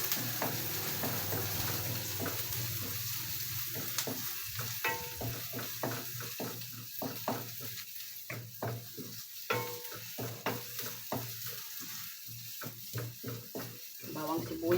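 Garlic and onion sizzle in a frying pan, a steady hiss broken by frequent scrapes and clinks of a utensil stirring against the pan, close and moderately loud.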